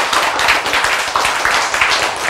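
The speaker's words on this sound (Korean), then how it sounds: "박수!" Audience in a lecture hall clapping together, a dense burst of many hands at close range, loud and continuous for a couple of seconds with no voices over it.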